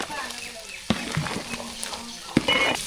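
Mustard seeds sizzle in hot oil, giving a soft frying hiss with scattered sharp pops and crackles while someone talks in the background.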